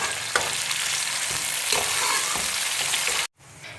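Tomatoes and onions sauté in a pan with a steady close sizzle and a few stirring scrapes, cutting off abruptly near the end before a quieter sizzle resumes; no talking.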